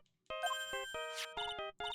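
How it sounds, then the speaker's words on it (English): A phone ringtone in the Phoenix Wright: Justice for All video game, a bright electronic melody of several quick tonal notes in short bursts with brief gaps, loud and clear with no voices. "I don't like the sound of this ringtone right now."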